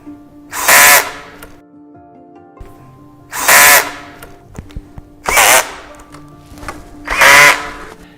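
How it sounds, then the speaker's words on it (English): A power driver tightens screws while a Flexispot standing desk is assembled, with four loud bursts of whirring about a second each, separated by quiet pauses with light tool clicks. "To avoid having a wobbly desk, make sure that you tighten the screws thoroughly."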